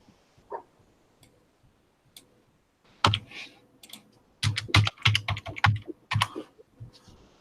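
Mechanical typewriter being typed on: a few scattered clacks, then a burst of rapid, irregular keystrokes, close and crisp.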